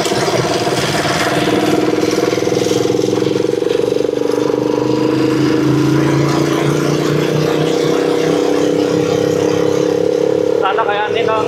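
A vehicle engine labors at a steady, loud drone while climbing a very steep mountain road, with a constant low hum and rising tone, and someone talks over it.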